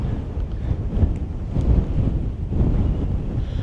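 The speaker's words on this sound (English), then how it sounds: "Well, it's definitely windy enough." Steady wind gusts buffet an open South Dakota field, a loud continuous rumble of wind across the microphone that swells and eases without pause.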